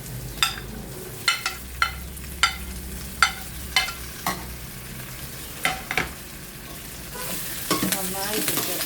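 Fried okra tossed into a pan of sautéed onions and green chillies, heard as a string of sharp scraping stirs over a low sizzle, with a louder, denser frying hiss building toward the end.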